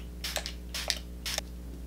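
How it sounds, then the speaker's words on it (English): Three quick hissing bursts from a shimmer face-mist spray bottle sprayed onto a face, close and fairly soft, spaced evenly apart over a low steady hum. "I'm just gonna spray my entire face."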